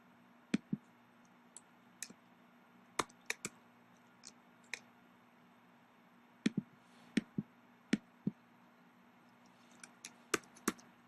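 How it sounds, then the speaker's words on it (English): A computer mouse clicks in scattered sharp taps, often in quick pairs, spread irregularly over several seconds against a faint steady hum in a quiet room. "By clicking and dragging."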